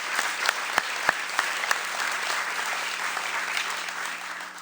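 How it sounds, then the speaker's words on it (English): An audience at a high school sports awards ceremony claps in steady, sustained applause, with several sharper individual claps standing out near the start before it slowly tapers. "Another round of applause for Ben Rizika from St. Pius."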